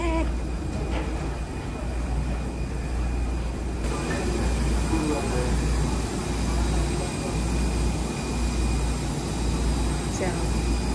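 A plane's engines drone steadily as an aunt on her first flight boards by jet bridge, a constant low rumble filling the whole stretch, with voices talking faintly in the background.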